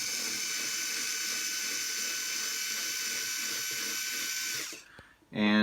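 A steady whirring, ratcheting hum comes from a tool working the long screws of a Baby Jogger City Mini GT stroller wheel lock, running evenly and close before cutting off near the end.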